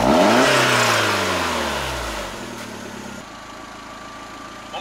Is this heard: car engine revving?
yes